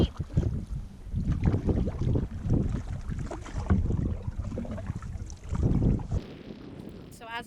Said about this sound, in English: And as you can tell, it's very windy